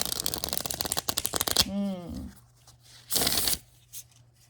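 Tarot cards are riffled in a quick burst of crisp flutters, then a short bridge, a pause, and another brief riffle; a brief vocal sound interrupts.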